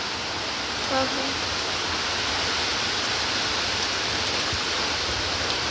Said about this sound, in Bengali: সকাল থেকে যে বৃষ্টি নেমেছে আর বৃষ্টি কমছেই না